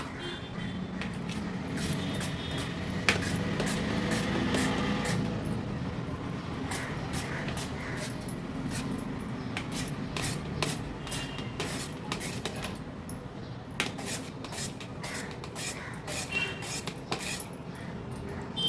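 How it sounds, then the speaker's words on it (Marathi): A whole potato is rubbed by hand against a grater in a steady, continuous series of close scraping strokes, with sharp metallic ticks scattered throughout. "असंच मी पूर्ण बटाट किसून घेते।"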